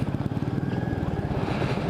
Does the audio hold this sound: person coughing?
no